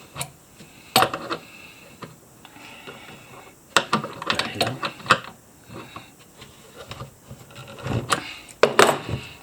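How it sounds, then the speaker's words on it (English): A hand ratchet clicks in short, irregular bursts while tightening bolts, with close, sharp ticking and brief pauses between strokes. "Tighten up the bolts."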